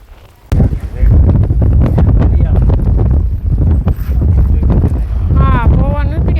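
Strong outdoor wind buffeting the microphone with heavy low rumbling gusts that dominate throughout, while people talk underneath.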